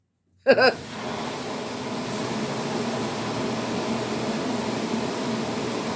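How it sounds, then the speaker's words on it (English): A pet blow dryer snaps on after a moment of silence with a brief loud start-up burst. It then settles into a steady, even rush of blown air and motor hum that continues to the end, with no talking. "My son just accidentally turned on the pet dryer."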